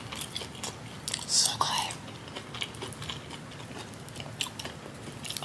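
Someone eats homemade baked mussels with noodles in a close-miked ASMR setting: soft, wet chewing and biting sounds, intimate and quiet, with brief whispered talk.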